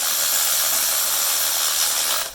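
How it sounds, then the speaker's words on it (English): Electric ratchet running steadily on spark plugs in a 2012 Honda Civic, a loud continuous whirring buzz that holds for a couple of seconds before cutting off abruptly. "don't use the electric ratchet because you're going to strip it"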